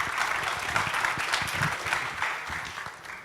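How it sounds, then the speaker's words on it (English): A conference crowd applauds as blockchain block producer teams are welcomed on stage, a lively, steady round of clapping that gradually thins toward the end. "Come on, guys. A round of applause."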